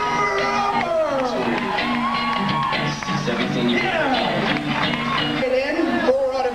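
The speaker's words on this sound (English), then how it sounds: "another huge round of applause for Dangerous D. Grimes and the Grim Roper!" Crowd cheering, whooping and shouting at a pre-fight weigh-in event as two fighters are introduced, a dense, loud, continuous roar of voices across the whole stretch with individual shouts poking through.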